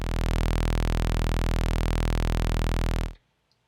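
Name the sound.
Behringer Cat synthesizer sawtooth wave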